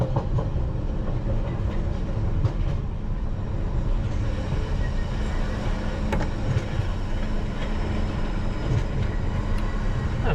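A London Underground Piccadilly line train runs steadily throughout, a loud continuous low rumble with faint clicking and clattering from the track, with no voices.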